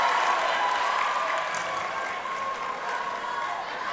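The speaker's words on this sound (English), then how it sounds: "What a great crowd out here" Spectators at a high school women's basketball game between Tullahoma and Lincoln County give sustained applause and crowd noise, a steady wash of clapping and cheering in a gym, moderately loud and continuous.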